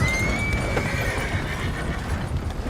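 A horse beside a coach in the video game Red Dead Redemption 2 gives a high neigh over steady hoof clip-clop and rolling wheel noise, loud and continuous throughout.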